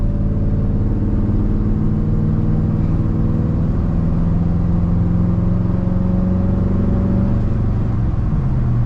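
A 1980 Chevrolet K10 Silverado 4x4 pickup idles with a loud, smooth, steady exhaust rumble close by, holding an even low drone throughout with a slight pitch drift near the end.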